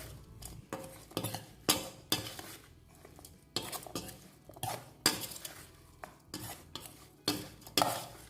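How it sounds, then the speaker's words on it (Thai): Raw shrimp larb being tossed and mixed in a bowl with sliced lemongrass, culantro and mint, giving repeated clinking, scraping strokes of a utensil against the bowl in an uneven rhythm, close and fairly loud, with no talking. "คลุกเคล้าส่วนผสมทุกอย่างให้เข้ากันดีเลยนะคะ"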